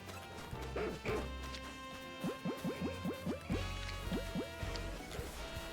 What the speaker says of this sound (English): I hear an Eevee in here.